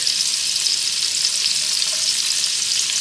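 Dumplings frying in oil make a steady, close sizzle, an even hiss that holds without a break.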